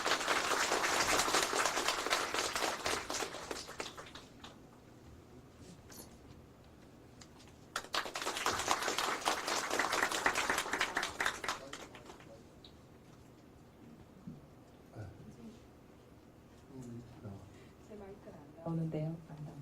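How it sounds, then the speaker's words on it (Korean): An audience at a literary café talk show claps to welcome an author, two loud bursts of many hands with a pause between them, then quieter moments and a host talking. "박수로 모시겠습니다."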